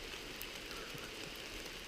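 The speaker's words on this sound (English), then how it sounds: "it's pouring down rain" Steady heavy rain pouring down along the Little River hiking trail at Elkmont, a dense even hiss of drops on leaves and ground, fairly soft and continuous with no voices.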